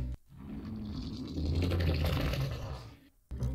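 A dragon roar from the Roblox game Dragon Adventures, one continuous wet, gurgling growl lasting about three seconds, loud and close, with no talking over it.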